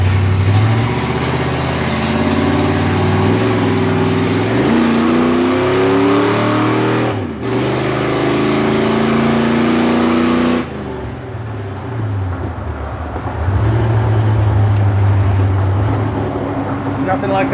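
A V8 Divco truck with electric exhaust cutouts open, its engine revving loudly and climbing through rising pitches, dropping briefly between pulls, with a voice under the roar.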